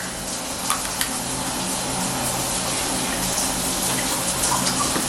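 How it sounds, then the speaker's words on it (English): A shower runs in a bathroom with a dense, steady rush of water spraying and splashing, loud and constant, with a few small knocks and no voices. "All right, shower's on."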